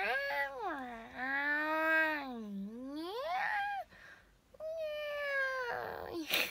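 A young woman imitates a cat, drawing out a series of long, wavering meows close to the microphone, one after another.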